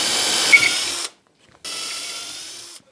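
A power drill bores into a wooden plank for a cabinet holding chisels and a Stanley plane, a steady whirring run that cuts off, pauses in silence, then starts again, loud and close.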